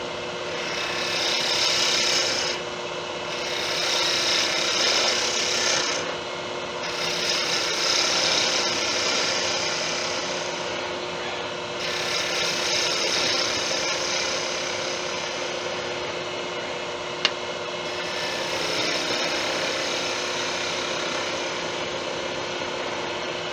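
A wood lathe spins a modified slimline click pen blank while a tool cuts it down, a continuous whirring hum with a rasping cutting texture broken by short pauses, close up and with no talk.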